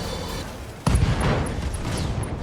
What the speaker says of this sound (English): Ammo explosion. Beautiful.